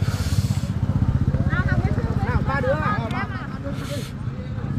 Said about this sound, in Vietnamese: Mọi người vẫn đi xe máy được xuống dưới này giỏi quá.